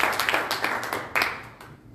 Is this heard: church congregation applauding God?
yes